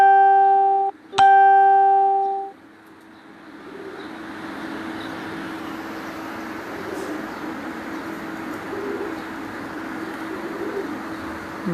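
Soft pigeon cooing from a rooftop loft runs beneath a steady, noisy background, after a brief bright chime and a sharp click at the start.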